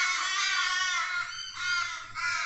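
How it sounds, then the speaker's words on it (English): Loud, harsh crow caws overlapping continuously, close by, with a brief dip before the raucous calling resumes. "man, the birds are so loud here."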